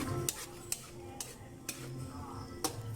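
A utensil stirs pork and tofu adobo with long beans in a pan, giving a few sharp metallic clinks spaced through a quiet, low background hiss.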